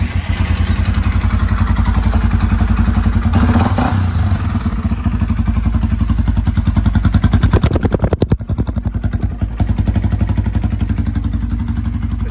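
A 2008 Yamaha Raptor 350 ATV engine idles close up with a loud, steady, rapid chugging beat, and a brief blip of revs comes near the middle.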